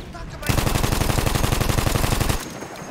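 Rapid automatic fire from the Annihilator gun in the World War I video game Battlefield 1, one sustained burst of rhythmic loud shots lasting about two seconds before cutting off.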